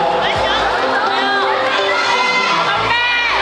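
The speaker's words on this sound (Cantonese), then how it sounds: "啲歡呼聲、掌聲" A crowd at a press conference for a visiting Korean group in Hong Kong cheers loudly, with high shouts and whoops filling the moment without a break.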